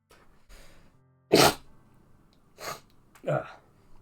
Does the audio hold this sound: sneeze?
yes